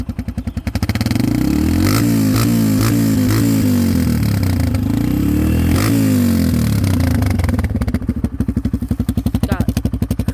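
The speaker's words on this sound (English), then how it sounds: "this is my custom exhaust. This is the way it sounds. Let me go ahead and rev it for y'all." A Yamaha TTR125 dirt bike with a custom exhaust, idling with a rapid popping pulse and then revved in several rising and falling bursts, loud and close throughout.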